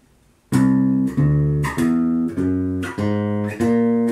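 A bass guitar climbs the C whole tone scale in a metal style, playing six or seven sustained notes in steady succession, each held about half a second. The notes are loud and clear, with no talking.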